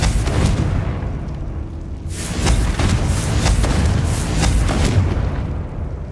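Confringo blasting spell from Hogwarts Legacy erupting in a series of loud booming explosions, a deep rumble followed by several sharp bursts in quick succession, with no talking.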